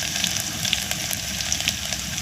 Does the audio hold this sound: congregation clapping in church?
no